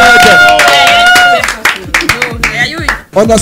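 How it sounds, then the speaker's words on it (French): Audience applause at an evening talk show event, with loud, close clapping and crowd noise mixed with excited voices, breaking into sharper scattered claps near the end. "Applaudissements pour Marcel, applaudissements pour Muriel, elles sont avec nous ce soir, applaudissements les amis."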